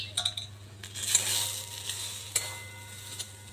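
Spices stirred in a cooking pan give soft scraping and clinking strokes over a faint sizzle. Several light metallic taps sound close by.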